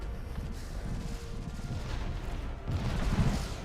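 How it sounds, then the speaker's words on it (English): A space fleet bombards a planet in Distant Worlds 2, a dense, continuous rumble of overlapping gunfire and booms that swells louder toward the end, with no voices. "they have begun their bombardment"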